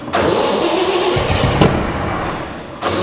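A 1924 Bentley with a twin-turbo engine cranks and fires up close by, a loud, steady engine rumble holding for about three seconds with a brief surge midway and a fresh burst at the end.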